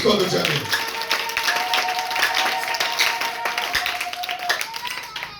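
A church congregation breaks into loud, dense applause and clapping that starts abruptly and carries on for several seconds, with a sustained tone from an organ or keyboard running underneath.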